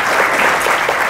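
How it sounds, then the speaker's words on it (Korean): Loud, dense audience applause after a Korean conference talk on processing weather data with Python, steady clapping throughout without a break. "발표자 권태환님께 다시 한번 큰 박수 부탁드립니다"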